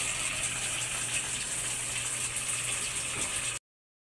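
A Samsung automatic washing machine, faulty and continuously taking in water during the wash, fills with a steady, even rush of water over a low hum, then stops abruptly.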